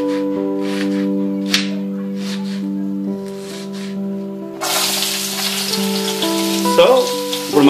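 Oil sizzles in a pan for crab curry, first a soft frying hiss under a steady hum, then a louder burst of sizzling as ingredients are added.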